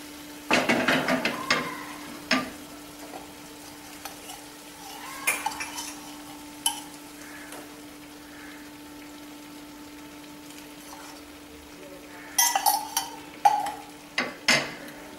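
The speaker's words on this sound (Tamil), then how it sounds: "கொஞ்சம் லேசாக தாளித்து கொட்ட போகிறோம்." Onion, curry leaves and capsicum are tempered in hot oil for Chettinad pepper chicken. Clusters of close metallic clinks and scrapes from a spoon against a pan sit over a faint sizzle, with quiet gaps between the bursts.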